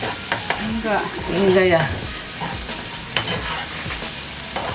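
Free-range chicken stir-fries with spices in a hot pan, a loud sizzle broken by spatula scrapes, while a person speaks briefly over the cooking.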